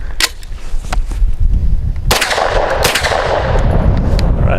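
A Stribog SP9A3 fired with its classic magazine lets off a string of sharp, loud close-range shots, several quick bursts spaced across a few seconds with echoing tails.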